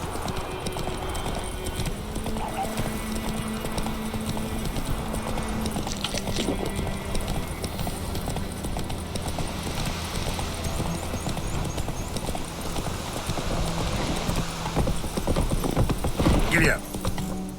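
Horse hooves clip-clop steadily throughout a ride in The Witcher 3 game, set against dense background sound, with voices speaking over parts of it.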